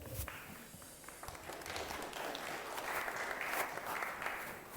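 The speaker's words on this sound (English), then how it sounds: "Round of applause for Bruce, please." A church congregation gives a round of applause for a man playing a lifeguard, a fairly faint and steady patter of clapping that swells slightly partway through.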